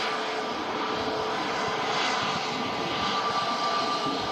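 An EasyJet Airbus A321neo arriving from Prague at Manchester Airport gives a steady, loud jet-engine roar, broad and unbroken for the whole stretch, with no voices over it.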